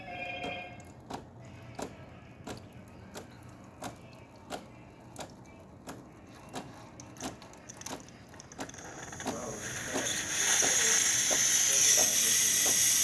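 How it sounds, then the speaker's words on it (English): Steam wand on a descaled Delonghi Magnifica espresso machine, with a regular pump ticking and clicking at first, then a broad, loud, steady hiss of escaping steam building up and holding. "As you can see, steam's coming out really well."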